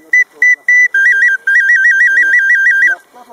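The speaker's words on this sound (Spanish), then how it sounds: "Las chirimías o silbatos." Traditional clay chirimía whistles sold at Teotihuacan, blown close and loud: several short shrill toots followed by a long warbling trill, with voices murmuring faintly between.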